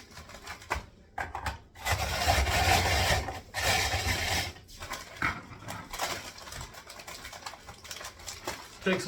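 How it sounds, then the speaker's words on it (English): Cookies being ground by hand for rum balls, a rough rasping, crunching scrape in uneven bursts, fairly close, with a person talking in between. "Takes a while just to grind these up."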